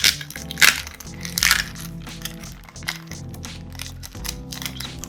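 Midori MD A5 notebook slid out of its plastic sleeve, with close crinkly plastic rustles and sharp crackling bursts near the start, then softer scattered handling sounds.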